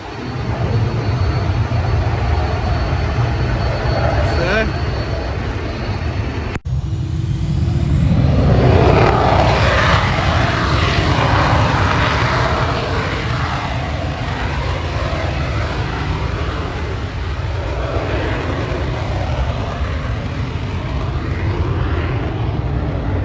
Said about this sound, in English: As you can hear, someone starts the engine.